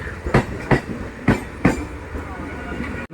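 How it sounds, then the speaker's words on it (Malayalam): Madgaon–Mangaluru Express passing near a small railway station, a loud close series of rhythmic clickety-clack wheel thumps over rail joints above a continuous rolling rumble. "മഡ്ഗോൺ മംഗളൂരു എക്സ്പ്രസ് ആണ് പോകുന്നത്"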